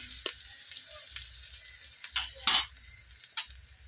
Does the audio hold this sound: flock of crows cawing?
no